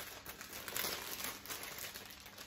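Soft, continuous crinkling of plastic packaging being handled, a close, steady rustle with a faint high whine running through it.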